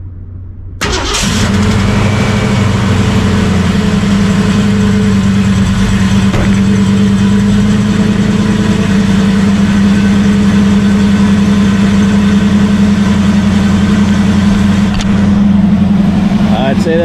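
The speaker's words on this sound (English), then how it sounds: "I'm gonna fire it up here, see how the cold start is." A Ford Mustang engine cold-starts in a shop with a sharp crank and catch, then settles into a loud, steady, close idle rumble that holds unchanged to the end.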